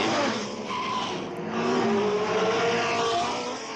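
Racing cars of the 1962 Monaco Grand Prix, with Lotus, Ferrari and Cooper entries, roar continuously through the street circuit, engines rising and falling with tire squeal as they pass close by.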